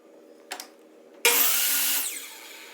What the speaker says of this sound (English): Now I'm going to cut that on the miter saw.